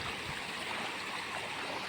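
Heavy rainwater overflowing across a road between Vanthal and Jalampura after torrential rain, a steady broadband rush of flowing water like a stream, close and continuous with no pauses.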